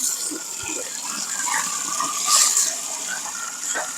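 Water gushes strongly out of a pumped tank, a steady rushing flow with a surge midway, close and loud.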